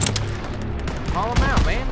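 Call of Duty WWII gunfire, bursts of shots and machine-gun rattle rising out of loud battle noise at close range, with shouted voices over it.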